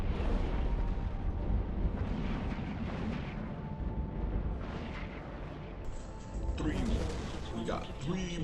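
Ships explode in the space game Eve Online as a continuous, heavy rumble of blasts and crashes with dense booming layers throughout.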